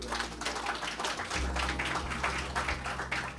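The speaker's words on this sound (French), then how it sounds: "vous pouvez l'applaudir" An audience at a closing event claps for a speaker, steady crowded hand claps at a modest level with a low hum underneath.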